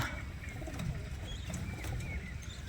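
Soft pigeon coos murmur through steady background noise, with a few faint chirps scattered across the short stretch.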